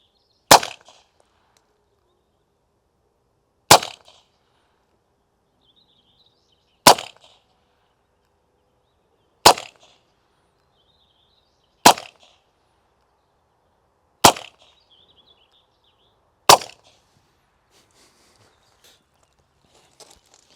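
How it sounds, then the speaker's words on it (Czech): Seven sharp pistol shots fired one at a time into cabbages and melons outdoors, each a loud isolated crack separated by a few seconds of quiet, with a faint short rattle after each. "zkusíme střelit do zelí, zkusíme si střelit do melounu"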